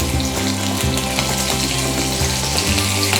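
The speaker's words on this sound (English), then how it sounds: "we're breaking our meat, lovely chorizo meat, into the pan, and it's getting all lovely and browned." Chorizo meat sizzles and browns in a frying pan, a loud steady crackle running without a break for the whole stretch, with no voices over it.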